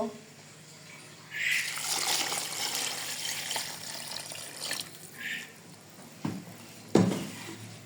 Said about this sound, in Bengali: ভালো করে মেখে নিয়েছি পরিমাণ মতো পানি দিব